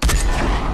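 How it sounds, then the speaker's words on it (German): Gunfire in the Fortnite video game, a short loud burst of rapid shots lasting under a second, with no talk over it. "Schüsse."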